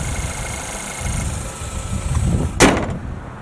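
A 2024 Toyota Tacoma's 2.4-liter turbo engine idles with the hood open, a steady low hum close by, broken near the end by a single sharp thump or clunk.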